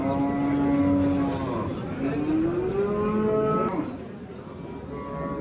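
A cow at a livestock market in Bakhmal, Jizzakh lets out a long, drawn-out moo, then a second one, loud and close, over a steady background rumble.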